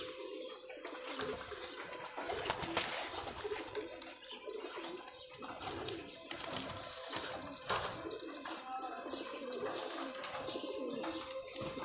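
Rolling pigeons of the ghonobaji type coo and flutter in a loft, soft repeated coos mixed with occasional wing flaps and bird chatter, close and steady over a noisy background.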